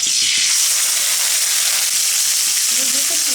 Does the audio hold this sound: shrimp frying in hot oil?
yes